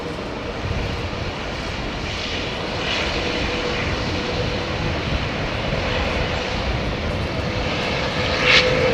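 An airliner powered by GEnx engines takes off from Heathrow, a steady, broadband jet roar that builds slightly and holds loud throughout, with a short thin tone near the end.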